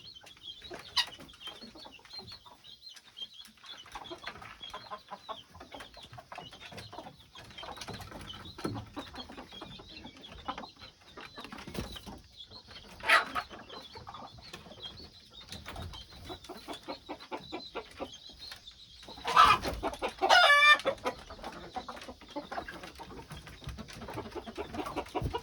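Hens and a small rooster in a farm coop, giving soft scattered clucks and murmurs over a faint steady hum, with a louder squawking call near the end.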